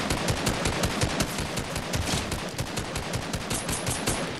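Rapid automatic gunfire from the video game Fortnite rattles on continuously in quick bursts, moderately quiet and with no voices.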